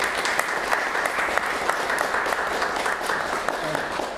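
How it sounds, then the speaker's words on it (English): Steady applause from a concert audience fills the space, dense and continuous, with individual claps standing out over a broad wash of hands throughout. "So let's give a round of applause."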